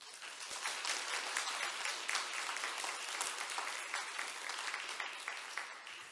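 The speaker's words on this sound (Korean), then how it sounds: "한번 일어나셔서 인사하시면 박수로 환영하도록 하겠습니다" A church congregation applauds to welcome a visiting pastor at a Sunday service, giving soft, steady clapping from a large room that continues evenly throughout at a fairly low level.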